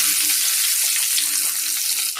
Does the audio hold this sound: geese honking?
no